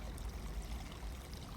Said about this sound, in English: Look how clean that water looks coming down from a natural spring.